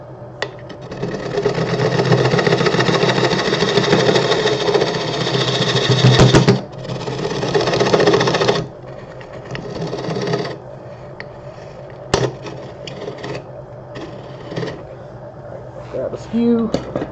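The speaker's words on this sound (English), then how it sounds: "Use this little parting tool." A parting tool cuts into a red oak firewood bowl spinning on a lathe, giving a steady rasping scrape. After about ten seconds it turns into quieter intermittent scraping and taps, with a voice talking over it.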